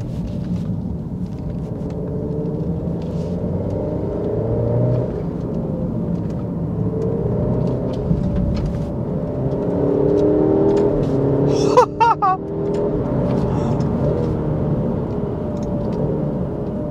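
An Alfa Romeo Giulia Veloce Ti Q4 280hp 2020 engine rumbles steadily, then briefly revs to the limiter with a sharp crack around a quick gear change before settling back into a loud, continuous drone.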